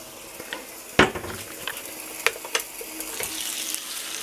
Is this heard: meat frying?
yes